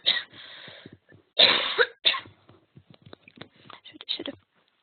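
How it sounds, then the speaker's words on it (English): Several bursts of a person coughing indoors, a loud harsh burst near the start and a stronger one around the middle, followed by quieter throat noises and breathing. "Excuse me, I'm just going to cough."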